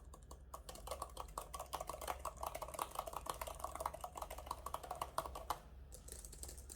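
Quiet, rapid typing on a Logitech MX Keys for Mac keyboard, irregular clicks of keys pressed in quick bursts, close by, continuing for several seconds before a short pause.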